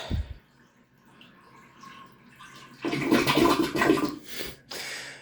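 An old repaired toilet with a newly replaced flush valve flushes, a brief drip at first, then a loud rushing swirl of water that drains and fades into refilling trickle.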